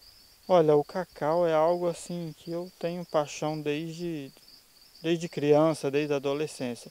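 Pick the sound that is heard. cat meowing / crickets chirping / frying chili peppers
crickets chirping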